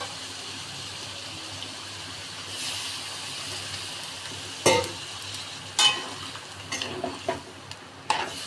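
Water poured into taro (arbi) masala frying in a pan: a steady close sizzle with brief bursts and splashes of liquid, and no talking.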